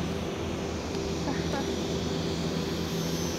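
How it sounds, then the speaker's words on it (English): A small Eachine T-28 Trojan RC plane makes low passes, its electric motor a steady droning whine that swells slightly as it goes by, with faint talk in the background. "It flies so nicely, this little plane."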